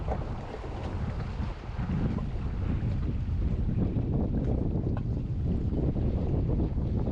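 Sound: strong wind blowing at sea on a fishing boat

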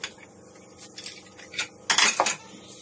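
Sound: opening a heavy-base pressure cooker after whistles

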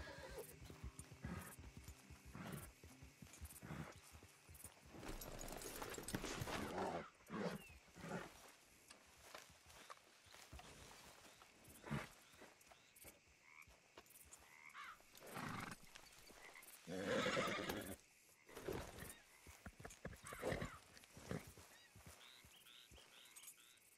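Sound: horse neighing in a video game

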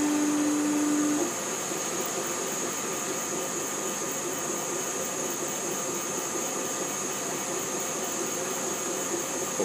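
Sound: laser cutter running at FabLab

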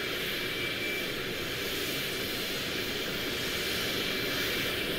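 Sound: airplane flying over in the video game Euro Truck Simulator 2

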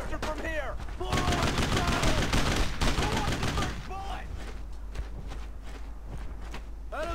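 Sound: gunfire in the video game Brothers in Arms: Road to Hill 30

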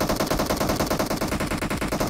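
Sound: gunfire from a video game, PUBG Mobile

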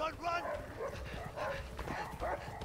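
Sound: dog barking in video game A Way Out

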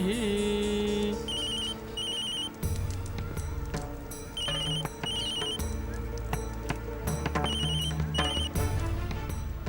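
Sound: telephone ringing

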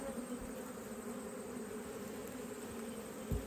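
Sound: honey bees buzzing at a swarmed hive

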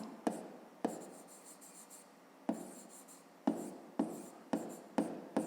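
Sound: pen writing on paper

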